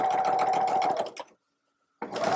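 Close, loud sewing machine stitching a seam on a simple tote bag: a fast steady whir that stops abruptly for under a second of silence, then starts again.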